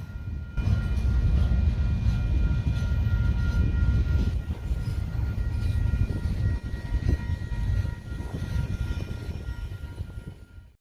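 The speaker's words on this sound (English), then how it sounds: "This train will stop here and will pick up the cut of cars from Pass Track." A freight train rolls into a rail yard in Albany, Oregon, to pick up a cut of cars, its rumbling engine and clattering wagons loud and steady before easing off at the end.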